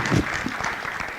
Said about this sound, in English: let's give a round of applause to everyone who was in that breakaway session